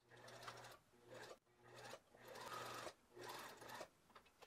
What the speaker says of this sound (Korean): 요 선 따라서 박아주세요